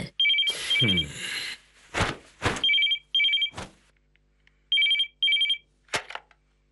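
A telephone rings in repeated short electronic trills, loud and close, with a few sharp clicks and knocks between the rings.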